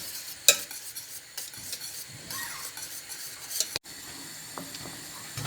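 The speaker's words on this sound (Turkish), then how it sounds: "Bu arada sürekli e, muhallebimizi karıştıralım ki kabuk tutmasın üstü." A spoon or whisk scrapes around a pot while muhallebi pudding is stirred for a caramel-coloured dessert. The soft, continuous swishing comes close, with a sharp clink early and another knock near the end.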